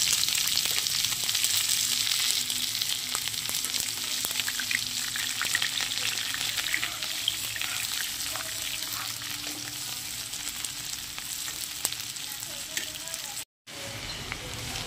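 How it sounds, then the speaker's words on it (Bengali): Onions and green chillies sizzle steadily in oil left over from frying fish, a dense continuous frying hiss with occasional stirring scrapes, close and fairly loud throughout with no talking. "মাছ ভাজার তেলের মধ্যে এবার আমি পেঁয়াজ আর কাঁচা লঙ্কাটা দিয়ে ভেজে নেব।"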